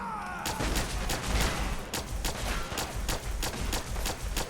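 Enemy gunners open fire in Fallout 4, a dense, continuous barrage of overlapping shots and sharp cracks that stays loud and close throughout, with no pauses.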